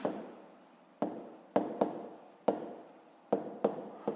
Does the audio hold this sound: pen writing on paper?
yes